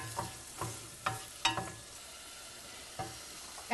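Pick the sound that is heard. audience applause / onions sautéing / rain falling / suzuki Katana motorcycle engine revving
onions sautéing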